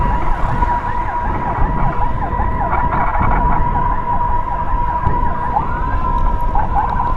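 A wailing ambulance siren sounds loud and continuous throughout, cycling steadily during a road escort of two ambulances, with traffic rumbling underneath.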